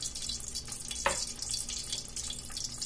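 Cumin (shahjeera) seeds dropped into a little heated oil for white chicken pulao give a steady close sizzle, with one brief sharper crackle early on and no talking.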